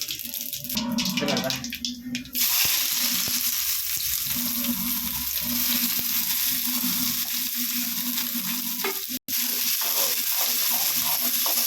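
Onions sautéing in a pan for Pulicat-style fish curry, a steady loud sizzle with scraping and rattling stirs of a spoon against the pan, continuing throughout.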